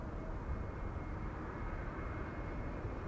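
An EasyJet A320neo airliner arriving at Amsterdam Schiphol produces a steady, broad engine roar that stays constant and fairly loud throughout, with no talk.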